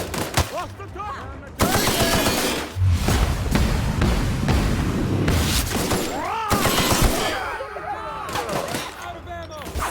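Rapid automatic gunfire in The Outer Worlds video game, loud bursts of shots and booming impacts in dense succession, mixed with shouted voices and combat chatter throughout.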